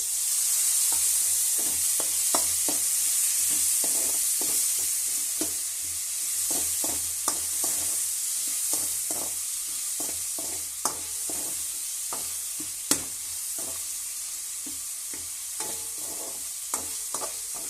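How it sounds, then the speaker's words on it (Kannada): Onion with broken dried red chilli and tomato fries in a pan for a mint gojju rice, a steady close sizzle punctuated by frequent sharp scraping clicks of a spoon stirring, with no talking. "ಈರುಳ್ಳಿ ಸ್ವಲ್ಪ ಫ್ರೈ ಆಗಬೇಕು ಒಂದು ಟೊಮೊಟೊ ಹಾಕ್ತಿದ್ದೀನಿ"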